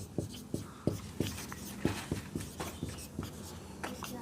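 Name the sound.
writing an equation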